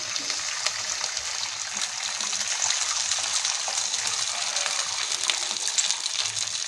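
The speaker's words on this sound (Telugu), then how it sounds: "కప్పున్నర వరకు వాటర్ పోసేస్తున్నాను" Steady broadband rush of water pouring into a pan of vermicelli, about one and a half cups, continuous and fairly close, with faint clinks and no talking.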